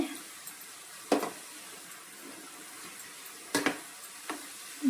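Cashews coated in spicy gram flour fry in hot oil with a soft, steady sizzle, broken by a few sharp clinks of a utensil against the pan.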